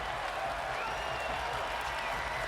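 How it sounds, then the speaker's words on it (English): An arena crowd at a Timberwolves versus Clippers basketball game roars in encouragement for the Timberwolves, a brief, loud, continuous wash of cheering and applause. "Crowd encouraging this Timberwolves team."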